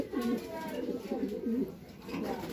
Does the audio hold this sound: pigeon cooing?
yes